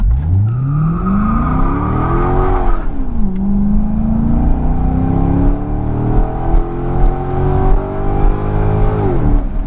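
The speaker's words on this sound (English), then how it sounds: "we're at a stop sign here, and I figured let's just give it a little gas, have a little fun" A V12 engine in a Mercedes S600 stopped at a stop sign is given gas, revving up loud and close in a rising sweep, falling back, then climbing again in a long sustained pull with no talking.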